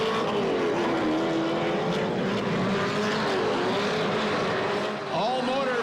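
Formula Drift race cars at Irwindale in 2005, a naturally aspirated car against a 4-cylinder turbo, make a steady engine roar that rises and falls through a drift run, with a voice talking over it.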